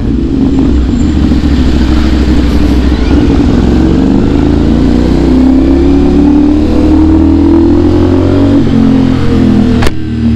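A sports bike motorcycle engine revs loud and close, holding a steady rising drone for the full stretch without pause.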